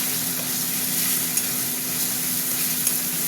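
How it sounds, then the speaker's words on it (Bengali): Prawns fry in a pan with tomato added, over a gas flame. A steady, crackling sizzle holds close and even throughout, and a couple of faint clinks sound over it. "চিংড়ি মাছটা ভাজা ভাজা হচ্ছে"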